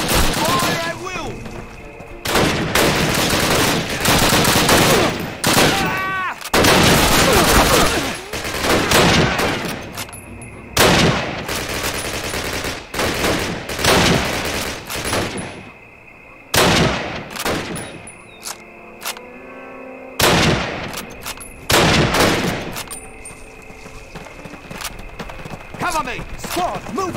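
Gunfire and explosions from the Call of Duty: United Offensive battlefield, dense loud bursts of shots and booms almost without break, with shouted voices mixed into the combat.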